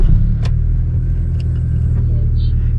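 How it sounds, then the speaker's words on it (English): A 2000 Acura Integra LS engine idles steadily just after a cold start, a continuous low rumble close by with a few faint clicks and ticks on top. "Here's a quick little cold start for you, by the way."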